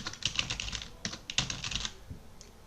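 Fingers type on a computer keyboard in quick, irregular bursts of crisp clicks with short pauses between, close and fairly loud, with no voices.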